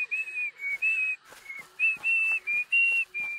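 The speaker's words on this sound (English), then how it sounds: "Hey, now I can whistle for real." A bright, tuneful whistle in short repeated phrases, close and fairly loud, with brief pauses between notes.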